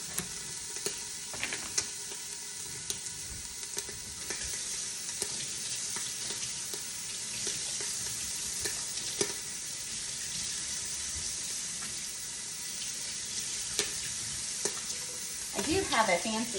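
Canned beans are rinsed and drained by hand under a steady rush of running tap water, with a continuous hissing stream, light splashes and occasional clatters close by.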